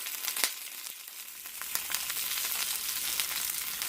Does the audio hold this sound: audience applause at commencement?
no